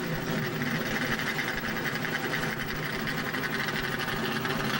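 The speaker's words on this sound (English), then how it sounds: "The engines are fired" Race car engines firing up together at Talladega Superspeedway before a NASCAR race, a loud, dense and steady mechanical roar with no let-up.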